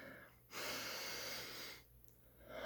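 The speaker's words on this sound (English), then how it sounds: "So you take a really deep breath, not just a chest breath." A long, deep breath drawn in slowly for a guided mindful-eating exercise, about a second and a half of loud, broad airy inhalation standing alone with quiet pauses on either side.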